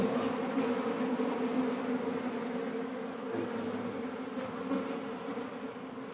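Honey bees buzz continuously as they are moved from a natural nest into a hive box in a village apiary, a dense, steady close-up drone of many insects with no speech.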